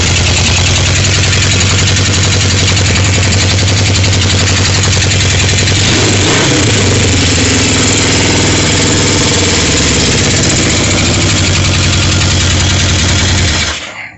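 A motorcycle engine, just kick-started after its carburetors were fixed, runs at a steady, loud, close idle with a throbbing putter for about fourteen seconds before cutting off. No one speaks.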